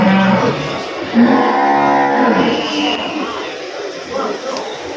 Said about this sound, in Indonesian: Sapi yang sangat besar, teman, simental.